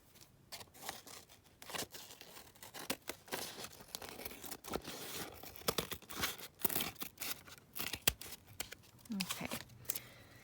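Paper or card is trimmed for a craft project, with repeated snipping and rustling cuts close by, the crisp bursts coming in quick succession throughout.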